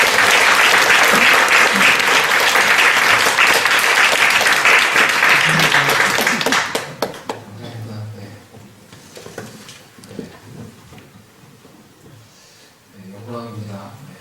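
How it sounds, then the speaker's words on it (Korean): A Korean church congregation applauds in welcome, loud dense clapping that fades after several seconds and gives way to someone speaking alone over a quiet room. "우리 박수로 환영하도록 하겠습니다"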